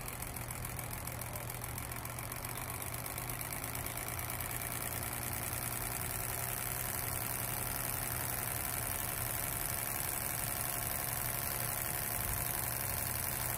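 An antique Carlisle & Finch DC bipolar electric motor runs at 10 volts with a steady, even hum and constant hiss, no speech over it.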